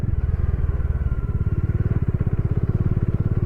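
Bajaj Dominar 400 motorcycle ridden off-road on an unpaved route between Pangong Lake and Hanle in Ladakh, its engine throbbing in a steady close pulse that turns crisper and more rhythmic partway through, with loose rattle over the terrain.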